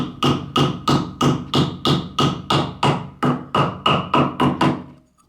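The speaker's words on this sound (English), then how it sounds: "So a little bit tapping is required." A shaded pole motor from a desert air cooler pump gets its bushing tapped into place: about thirteen evenly spaced, sharp metallic knocks, close and clear, each ringing briefly before the next.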